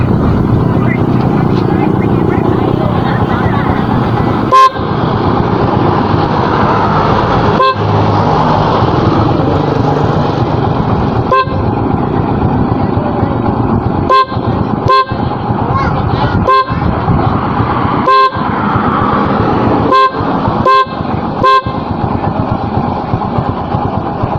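Repeated short car horn beeps at irregular intervals over a steady engine and background voices, loud and close; the horn is wired through a relay with a passing light.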